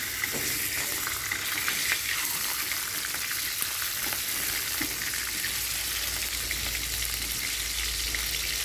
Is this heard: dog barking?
no